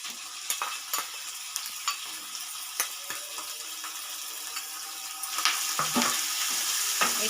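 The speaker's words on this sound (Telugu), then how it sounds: "ఇప్పుడు ఇందులోకి చికెన్ కీమా వేసేసుకుంటున్నానండి నేను" Chicken mince frying and being stirred with onions in a pan, a steady close sizzle punctuated by sharp scrapes and clicks of a spatula against the pan, growing busier toward the end; no talking.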